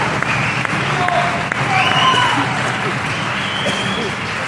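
An audience at a stage talk on music claps steadily as a continuous wash of applause, with a few voices audible over it.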